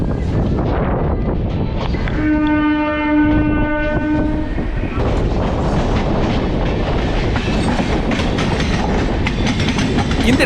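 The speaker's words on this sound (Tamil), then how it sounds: "லெஃப்ட் ஹேண்ட் சைடில் இப்போ நீங்கள் பார்க்கறது தான் திருத்தணி போகிறதுக்கு உண்டான எலக்ட்ரிக் ட்ரெயின்." An electric train bound for Tiruttani passes near a moving passenger train, with continuous loud rumble and wheel clatter and a sustained horn blast of a couple of seconds early on.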